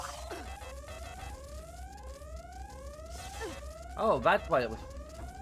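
A repeating rising electronic alarm tone sounds in the video game Deus Ex: Invisible War, sweeping upward over and over at a steady pace while a person talks over it.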